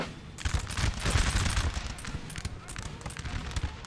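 Massed musket volleys crackle through a Napoleonic Total War 3 line battle, a dense continuous rattle of overlapping shots with some heavier thumps, steady and loud throughout with a faint voice underneath.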